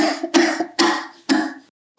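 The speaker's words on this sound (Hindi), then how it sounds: "फसली खांसी है" Three harsh, rasping coughs of a seasonal cough come close together in an even rhythm, each with a throaty tail, followed by a short silence.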